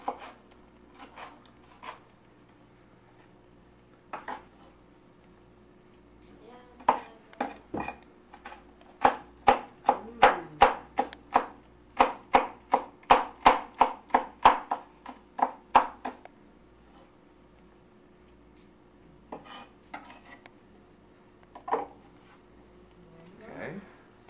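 Knife chopping a pepper with its seeds removed on a cutting board: a fast run of crisp, even knocks in the middle, with sparser taps before and after, close by over a low steady room hum.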